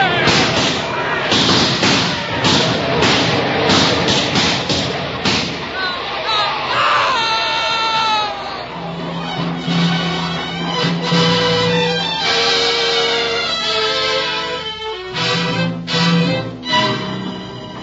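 Battle scene in a 1949 radio drama of The Red Badge of Courage: a rifle volley booms in sharp overlapping bursts, then gives way to shouting and crying voices with scattered thuds.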